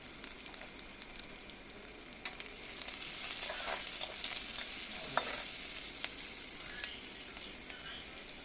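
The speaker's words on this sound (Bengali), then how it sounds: "পেঁয়াজ কুচিটা দিয়ে পেঁয়াজগুলোকে একটু ভেজে নিচ্ছি" Chopped onions fry in a pan for a fish and cauliflower curry, a steady close sizzle with scattered crackles and a brief sharp pop near the middle, no voices.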